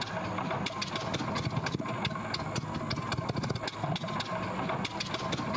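A Spitfire's engine is cranked in Microsoft Flight Simulator at Duxford as it tries to start: dense sputtering, popping mechanical clatter with irregular bursts, loud and continuous without catching into a steady idle.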